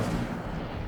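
Incendio fire spell cast in the Hogwarts Legacy video game, a loud, dense whooshing roar of flame that holds steady across the whole short burst with heavy low-end rumble.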